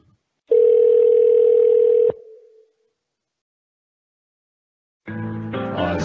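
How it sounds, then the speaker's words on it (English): A phone call is transferred to a call queue: a steady electronic ringing tone sounds for about a second and a half, then cuts off. After a pause, music starts up in its place. "Now we're transferring to the call queue."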